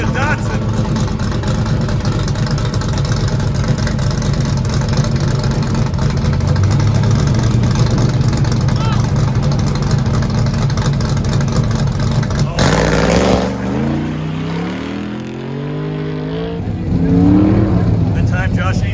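Corvette and Datsun cars in a desert autocross at a Goodguys event, with a steady loud engine drone that shifts into rising and falling revs as a car accelerates and passes, while an announcer talks over the noise.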